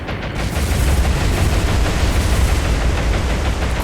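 Rockets from diving Avenger aircraft exploding on targets in the naval game War on the Sea, a dense, loud, sustained rumble of blasts rolling together without pause.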